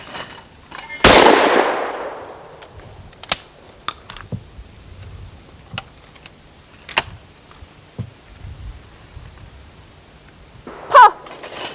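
A shotgun fires at sporting clay targets outdoors, with one loud, sharp blast near the start that rings out and decays, followed by scattered small clicks and handling noises and a brief burst near the end.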